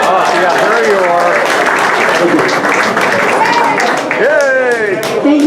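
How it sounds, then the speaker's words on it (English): An audience at a 10th anniversary gala breaks into sustained applause, dense clapping filling the room while voices call out and speak over it. "We have a round of applause for them, like a real one."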